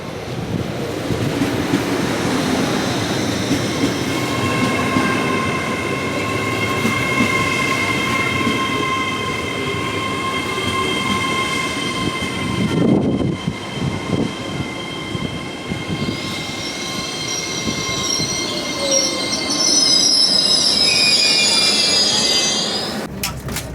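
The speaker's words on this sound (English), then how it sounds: "So we're here on our Class 807 Avero Avanti West Coast train." Interior of a moving Avanti West Coast Class 807 train: a steady rumble of wheels on track with rising electric whine and squeals, a brief whoosh midway.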